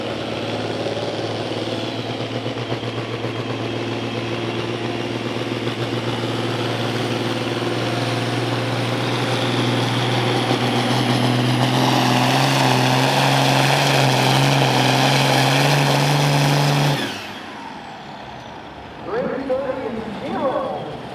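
International 966 farm stock tractor pulling at a Rockwell, Iowa tractor pull, its engine a loud steady drone that builds in intensity, then cuts off abruptly near the end, leaving crowd noise and a commentator talking.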